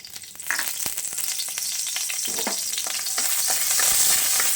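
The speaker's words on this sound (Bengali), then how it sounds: "আমি দারচিনিটা দিয়ে দিচ্ছি" Cinnamon dropped into a little hot oil in a wok, a sudden sizzle that settles into a steady, loud frying hiss with a few light stirring taps, close up and with no voices.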